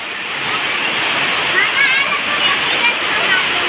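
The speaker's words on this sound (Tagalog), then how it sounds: "Ang lakas ng ulan, guys." Heavy rain pours down while rainwater floods into a house, a loud, dense, continuous rush of falling and running water close by.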